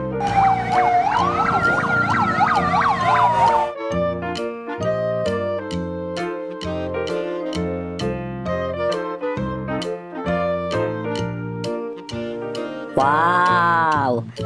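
A toy fire truck's electronic siren wails loudly and close, switching between a rising-falling sweep and a stepped two-tone pattern before a final sweep, with no talking over it.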